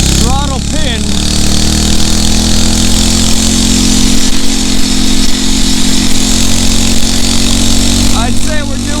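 A Phatmoto Rover 79cc motorized bicycle engine runs at full throttle, a loud, continuous buzzing drone with steady pitch held throughout, close to the rider, with wind noise and brief voice-like sounds over it.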